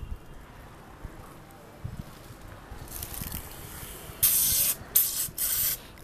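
Bursts of homemade organic pesticide are sprayed onto plant leaves and stems outdoors. Faint handling and rustling noises come first, then three loud hissing sprays close to the microphone, with a short pause between each.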